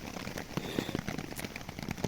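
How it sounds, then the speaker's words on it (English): Heavy rain falling on a tarp shelter in the woods, a steady, faint patter of drops with occasional louder taps, no talk. "the rain started coming down pretty heavy"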